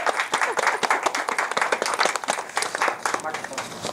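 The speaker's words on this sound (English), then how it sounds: "Give him a round of applause." An audience claps loudly and continuously as a performer is welcomed onto a stage, a dense, close burst of applause with voices mixed into the crowd noise.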